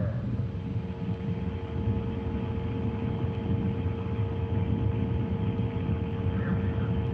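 A rocket carrying the Expedition 37/38 crew climbs toward the International Space Station. It gives a continuous low, rumbling roar with a faint steady tonal hum over it, even in level throughout.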